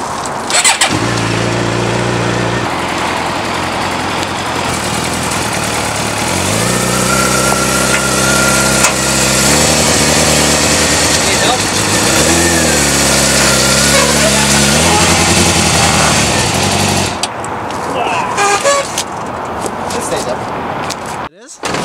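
A Suzuki GSX-R 750 sport motorcycle engine runs close by, revving up and down through several rising and falling pitches for about seventeen seconds before cutting off; voices talk over it.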